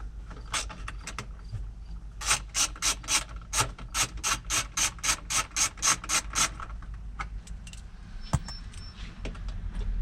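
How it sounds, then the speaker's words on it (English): Screws being loosened on the side mirror of a 2005 Chevy Tahoe, a quick run of about a dozen evenly spaced ratchet clicks in the middle, with scattered softer tool clicks before and after. "once I loosen these screws"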